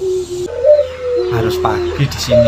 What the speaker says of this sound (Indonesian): Ini suara burung perkutut yang indah sekali ini di pagi hari ini.